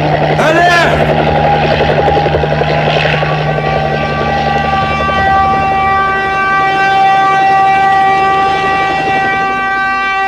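A helicopter rushes in close and loud with a sustained tonal engine whine and rotor drone lasting several seconds, an alarm-like siren tone mixed in, and a brief sharp burst at the start.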